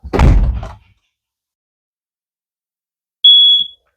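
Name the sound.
propane LP detector alarm going off in RV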